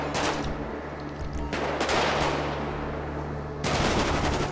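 Rapid automatic gunfire from a GTA V zombie-survival game session, loud, dense bursts of shots filling nearly the whole clip with a brief lull in the middle, over a steady game background hum and no talking.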